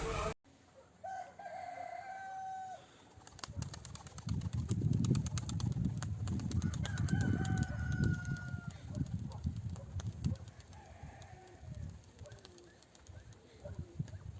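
Turkish tumbler pigeons (Miski breed) coo and call over a steady low rumble of outdoor noise on a balcony, with fluttering and bird sounds continuing throughout; no talking.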